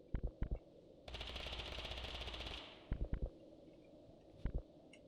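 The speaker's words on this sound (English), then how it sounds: "I heard some gunshots already." Gunfire in the video game Totally Accurate Battlegrounds: a few scattered single shots, then a sustained rapid automatic burst lasting over a second, followed by more short clusters of shots, fairly quiet and with no talk.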